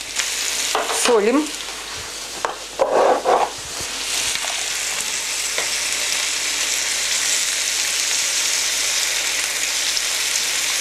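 Onion half-rings frying in a pan give off a loud, continuous sizzle. A spatula scrapes and stirs a few times early on, and a voice speaks briefly over the crackle.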